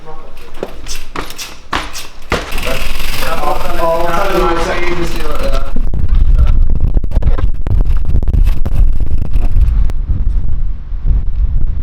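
Heavy wind buffets the microphone with loud low rumbling gusts during an enduro mountain bike ride, while a person talks briefly near the start before the wind dominates.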